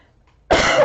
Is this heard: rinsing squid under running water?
no